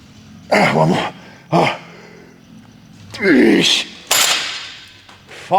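A dog barks in several loud, close bursts spaced a second or so apart, with a rougher, growling bark partway through, in an indoor gym setting.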